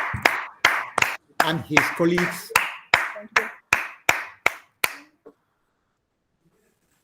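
An audience applauds at a health talk, a dense burst of clapping that starts loudly, runs for about five seconds and stops abruptly. A voice briefly speaks over it.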